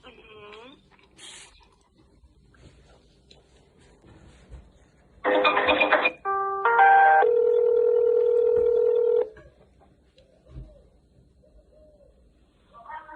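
Telephone line tones while a call waits to be connected to the police: a burst of tones, then a stepped tone and a long steady ringing tone, with faint room sound around it.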